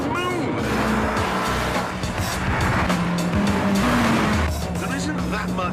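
A 2006 Honda Civic Type R engine revs hard and rises in pitch, its loud, urgent note climbing and holding high before easing back slightly over several seconds.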